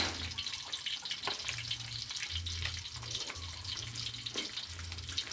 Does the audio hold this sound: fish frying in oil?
yes